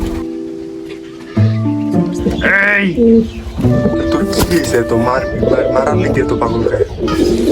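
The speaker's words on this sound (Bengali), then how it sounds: "এই হয়েছে আমার কবুতর" Lahori pigeons cooing and warbling up close, mixed with other bird calls and some talking in the background, loud and busy.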